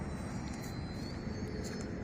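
A foamboard UMX Timber RC plane's electric motor at full throttle gives a steady high-pitched whine over broadband wind rush, faint and continuous throughout.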